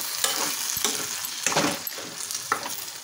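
Ivy gourd and masala paste stirred in hot oil in a frying pan, a close, steady sizzle broken by scraping spoon strokes at an uneven rhythm, with no voices.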